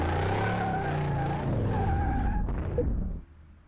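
Car tires squealing and skidding during a brake test on a twitchy barn-find car with poor brakes in Car Mechanic Simulator 2018, a steady close screech over engine hum that cuts off abruptly near the end.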